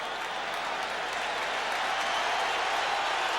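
A stadium crowd at a 1989 NFL football game between the Giants and the Cowboys roars and applauds in a dense, steady wash of noise that swells slightly toward the end.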